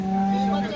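A cow tied in the shade on a hot day at a farm gives a single short, low, sustained moo close by.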